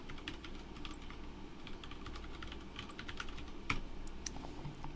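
Fingers tap on a new computer keyboard in quick, irregular runs of soft clicks, close and fairly quiet, with one sharper keystroke near the end and no talk.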